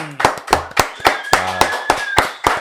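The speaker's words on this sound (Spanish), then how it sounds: "démosle un fuerte aplauso al gran Andrés Ribón" Scattered hand claps ring out in a podcast studio as the audience welcomes a guest: about eight sharp, separate claps in a loose, uneven rhythm, close and fairly loud.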